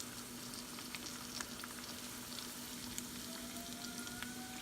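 Korean honey butter chicken wings crackle and sizzle steadily in hot oil during the first of two fryings, a soft continuous frying hiss with scattered pops and a low hum underneath.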